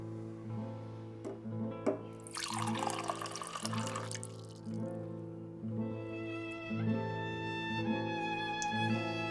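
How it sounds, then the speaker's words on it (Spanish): Tap water runs steadily from a household faucet in Argentina. It is a faint, continuous stream with a louder splashing gush partway through, set against a constant low mechanical hum. "Sigo tomando agua de la canilla"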